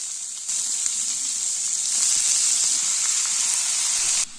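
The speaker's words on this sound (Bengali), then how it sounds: "পেঁয়াজের কাঁচা ভাবটা দূর না হওয়া পর্যন্ত ভেজে নেব।" Onion, chili and garlic fry in hot oil with a steady, close, bright sizzling hiss that holds evenly for several seconds and then drops away at the end.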